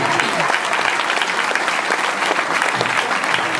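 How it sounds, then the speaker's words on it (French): Dense applause from a crowd in a room, steady and sustained for the whole stretch with no pauses. "vous pouvez vous applaudir"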